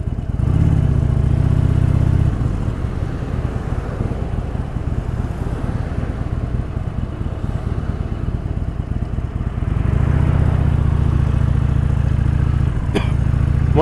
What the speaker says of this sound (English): this is a Harley-Davidson Sportster 1200